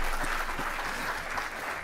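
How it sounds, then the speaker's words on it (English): Conference audience applause at a plenary session, a brief even wash of many hands clapping in a large hall, moderately distant and steady. "You can applaud that, by the way"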